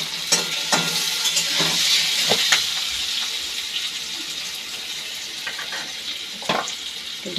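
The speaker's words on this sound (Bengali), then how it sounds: "আলুটা ভেজে নিচ্ছি আগে" Potato pieces fry in oil in a pan with a continuous sizzle, punctuated by several sharp clatters and scrapes of stirring at irregular intervals, no talking.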